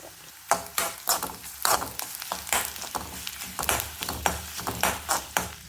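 Dried red chillies crackle and sizzle in hot oil while tempering for a Kerala sadya pumpkin pachadi, with a close, steady frying hiss broken by repeated sharp pops and stirring scrapes.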